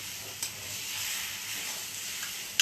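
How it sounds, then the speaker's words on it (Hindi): Spices with red chili roasting in a pan make a soft, continuous sizzle and hiss, fairly quiet and steady, with a couple of faint clicks and a sharper knock right at the end. "थोड़ी सी लाल मिर्च डालेंगे, और इसको हम भूनते रहेंगे"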